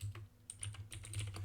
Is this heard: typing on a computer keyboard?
yes